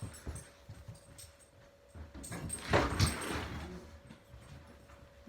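A dog whimpers and whines indoors in short, faint bursts, with a louder cluster of soft cries near the middle and a low hum in the room.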